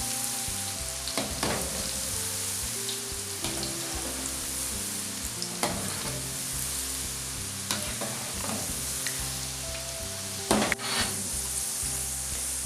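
Peanuts frying in a pan while being stirred, a continuous close sizzle with repeated scraping and rattling of nuts against the metal as they are turned, no talk.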